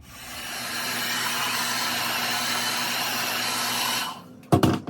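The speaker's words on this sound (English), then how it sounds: "then I'm going to blow dry it" A hair dryer blows steadily on a wig cap for about four seconds, a loud close whooshing roar that cuts off, followed by a few sharp handling knocks.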